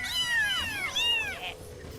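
A cat meow notification chime plays during an online game session, a run of rising and falling meows sounding clear and close, without voices over it.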